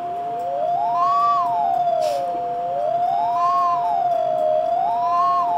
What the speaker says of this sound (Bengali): ভাই অ্যাম্বুলেন্সের সাউন্ড একটু বাজায়